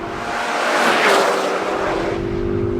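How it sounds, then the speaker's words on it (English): A 2013 Ford Focus ST hot hatch accelerating hard, its engine a steady, loud, strained roar that holds for about three seconds with no voices. "And you get to listen to a rather wonderful engine sound."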